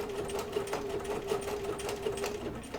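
A sewing machine stitches applique along the edge where green fabric meets red fabric on a poppy quilt, a steady continuous hum with fast, even needle strokes throughout, fairly close and alone with no talk.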